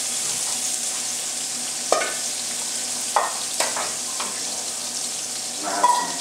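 Onions sizzle steadily in hot oil in a pan, a continuous close frying hiss broken by a few sharper crackles and the scrape of stirring.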